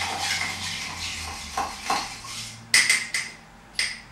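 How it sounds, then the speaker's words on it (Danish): A spoon stirs a mojito in a glass, giving a run of close, bright metallic clinks and taps that sharpen toward the end, with no voices. "og rører godt"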